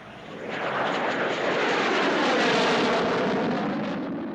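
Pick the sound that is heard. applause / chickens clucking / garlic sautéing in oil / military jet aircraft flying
military jet aircraft flying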